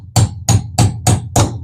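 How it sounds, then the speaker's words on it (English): Brass face of a hammer knocking a pin through a vintage D.A.M. Quick 110N fishing reel, five sharp metallic strikes in a steady rhythm, close and loud with no talk. "We'll take the brass side of the hammer"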